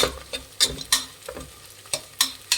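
Long-cut green chillies fry with onions in a pan, stirred in quick, repeated strokes, each one a crisp scraping burst over a soft, steady sizzle.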